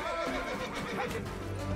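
A horse neighs in The Witcher 3 video game, a loud, close whinny over game background sound, brief and alone.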